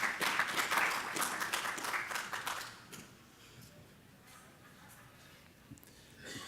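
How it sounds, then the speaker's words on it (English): An audience at a business event on economic development applauds an arriving speaker, loud dense clapping for about three seconds that dies away into quiet room noise with a few scattered claps. "Round of applause,"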